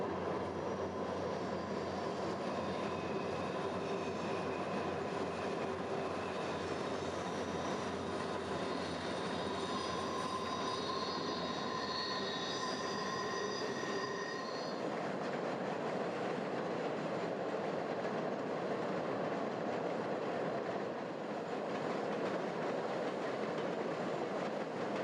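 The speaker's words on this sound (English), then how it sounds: "it makes a dramatic setting for this eastbound CN merchandise freight." An eastbound CN merchandise freight train rolls across the 914-foot-long, 112-foot-high Anderson River Bridge in Canada, a continuous loud rumble with wheel squeal and steady clatter throughout, no talking.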